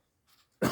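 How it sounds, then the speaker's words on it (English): A single sharp, loud cough bursts out at the end, after a few faint breathy throat sounds, from a lone man in a quiet room. "Got through that without too much coughing."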